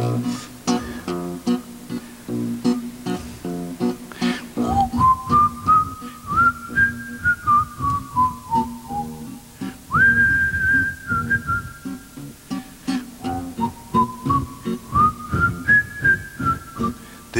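A man whistles a melodic line during a performance of an old Russian bard song, sustained rising and falling tones with a quiet guitar accompaniment underneath.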